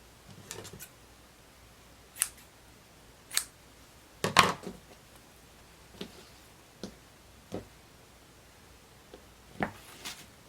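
Scissors snip through fabric being cut out for a blouse, with about a dozen sharp, separate cuts spaced irregularly in a quiet room.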